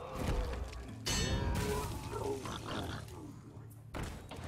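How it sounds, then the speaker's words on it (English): Melons breaking on the Pandaria board in Hearthstone, a video game: a sudden crunchy smashing crack followed by a grunting, squishy rustle, then a second quieter burst, with faint game sounds behind. "I'm gonna break some melons here."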